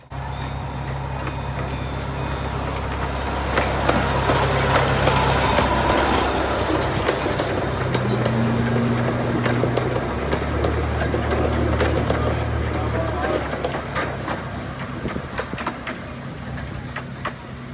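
A Cincinnati Zoo train locomotive rolling past, a loud steady rumble with a sustained low hum and whistle-like tones, rising and fading as it passes nearby.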